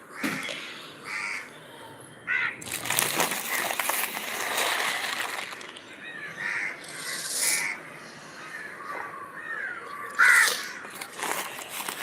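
A crow caws repeatedly outdoors, harsh calls coming in irregular bursts, some loud and close, over a steady background of ambient noise.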